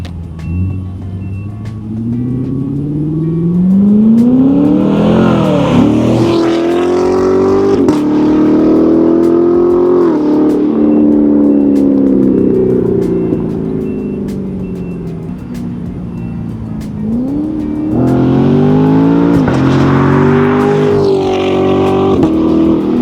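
A 2017 Corvette Grand Sport with a new throaty exhaust roars past, engine revving and rising in pitch, fading, then another strong revving pass near the end.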